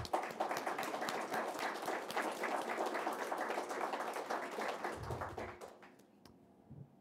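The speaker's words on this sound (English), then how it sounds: "Let's give her a round of applause just for that." Audience applause at a talk on breaking and hip-hop dance, a fairly faint, steady clatter of clapping that fades away in the last two seconds, leaving near silence.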